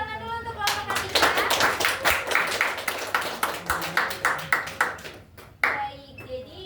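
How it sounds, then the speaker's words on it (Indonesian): A classroom group claps for a student's team, a brisk close burst of many hands clapping for about five seconds, with children's voices chattering over it. "kita beri tepuk tangan dulu untuk kelompok Atika"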